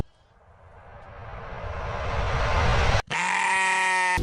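Sheep bleating on a golf course at the Open, a rising rush of noise giving way to one loud, close, wavering bleat.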